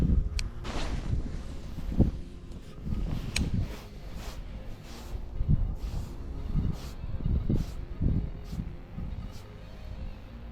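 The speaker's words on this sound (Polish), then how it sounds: "trochę wiatr wieje" Gusty wind buffets the microphone in uneven bursts at a fishing spot during pike casting, with rustling and low rumbling throughout.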